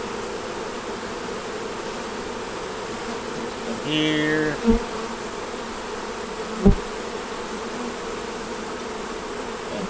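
Honey bees buzz steadily around hive frames during a colony inspection, a constant insect hum throughout, with a brief louder tone and a couple of sharp knocks partway through and a short spoken remark.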